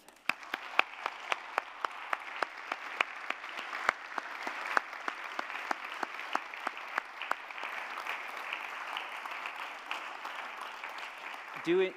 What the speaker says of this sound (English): Let's give one last round of applause for Lynnette.